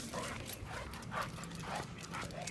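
Pet dogs give faint whimpers and short yips over steady background noise, with soft thuds that could be footfalls.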